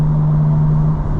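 A tuned 2025 BMW M4 CS exhaust holds a steady, close, low idle drone with no crackle or burble, droning evenly for the whole moment.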